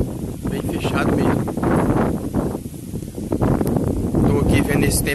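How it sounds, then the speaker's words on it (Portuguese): Strong gusts of wind buffet the microphone on a rainy, thundery day in the countryside, with rustling and roaring surges while someone talks over it. "Ventando bastante aqui."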